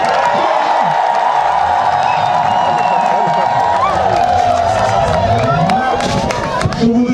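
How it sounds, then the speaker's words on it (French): A church crowd at an Assumption feast celebration at a mountain sanctuary in Babadjou cheers for the pope, with loud sustained shouting, whoops and scattered clapping filling the space, dense and close throughout. "Je vous prie d'applaudir pour le pape."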